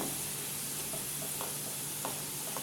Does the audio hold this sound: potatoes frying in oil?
yes